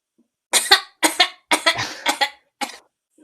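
Repeated coughing fit from one person: five or six harsh, close bursts in quick succession, some in double hacks, loud and alone with no talk over them.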